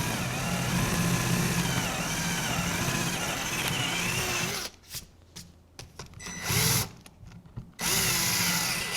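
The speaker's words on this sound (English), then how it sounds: "just use a countersink bit and make this a little bit larger" A power drill with a countersink bit whines steadily as it widens a hole for a Moxon vise, then runs in a series of short on-off bursts before spinning up again, close and loud.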